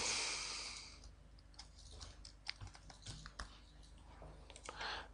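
Keys clatter on a computer keyboard as a page title is typed, in quiet, irregular bursts of clicks close by, after a short rush of breath or noise at the start.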